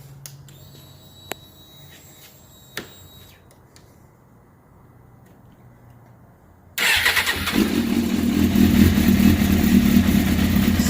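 A motorcycle fitted with a Yoshimura exhaust starts up after a few quiet clicks, then settles into a loud, steady idle that runs to the end.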